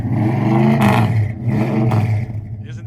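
The 360 engine of a restored 1974 Plymouth Sebring Plus revs up close and loud, two strong throttle blips swelling and falling back to a rumbling idle.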